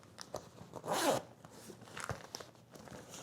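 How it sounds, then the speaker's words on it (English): A close Tesla backpack zipper is pulled in one quick, raspy stroke, surrounded by soft handling and rustling sounds. "So you just pull the zipper back."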